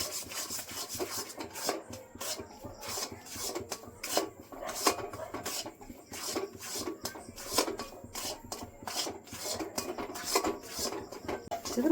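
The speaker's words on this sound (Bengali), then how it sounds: "সুন্দর করে মিশিয়ে নেব।" Sandesh mixture being mixed in a pan, with a steady run of rasping, scraping strokes of a spatula against the pan, fairly close and regular, with no talking.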